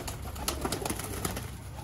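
Young Parwazi pigeons coo low and continuously in a loft, their soft murmur layered over a busy, hissing background.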